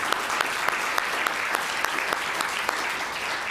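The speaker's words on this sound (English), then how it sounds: "How about a round of applause for Rebecca?" Conference session attendees give a continuous round of applause for a colleague from the American Cancer Society, with many hands clapping at a constant level, crisp individual claps standing out throughout.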